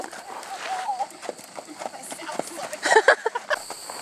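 Hoofbeats from Haflinger endurance horses, a rapid run of soft thuds close by under people talking.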